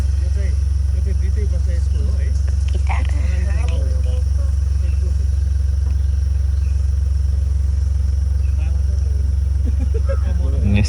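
A safari vehicle's engine rumbles loud and constant from inside the jungle, with rattles and clatter over the top. A voice talks intermittently under the drone.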